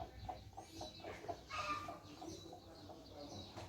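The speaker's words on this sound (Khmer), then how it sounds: "មាន់មួយផ្ដៅកូន" A hen clucks softly near her chicks behind a rural house, a few short, faint clucks scattered over quiet outdoor background.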